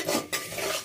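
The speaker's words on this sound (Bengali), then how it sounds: "ফোড়নটা ভালো করে ভেজে নিয়ে" Panch phoron spices and bay leaves fry in a few spoons of hot oil over a low flame. Close scraping and stirring noises with a faint sizzle run through a short burst, with no talk.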